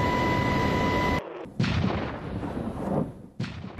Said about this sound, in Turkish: F-16'lar havalandı. Teröristlere bomba yağdırdı.